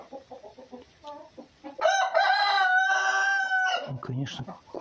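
Chickens cluck in short, quick bursts nearby, interrupted by a loud, long rooster crow before the clucking resumes.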